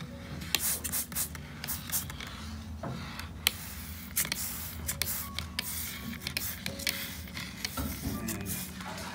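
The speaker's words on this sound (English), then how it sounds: "shock this grout. Just in a little trigger sprayer, don't need too much" A small trigger sprayer spritzes acid grout cleaner onto shower tile grout. Several short, soft hissing squirts come at irregular intervals alongside faint handling clicks, close to the mic.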